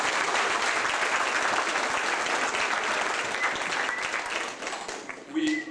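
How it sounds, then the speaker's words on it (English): Guests at a wedding celebration give a dense round of applause that holds steady, then tapers off near the end as a voice begins to speak. "because everyone applauded"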